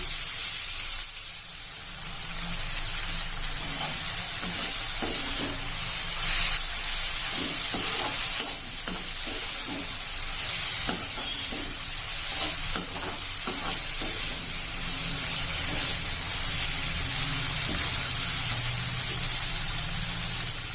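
Tomatoes fry and break down in a pan for a potato and pea masala, with a continuous loud sizzle, bubbling hiss and occasional scraping ladle clicks, and no voices.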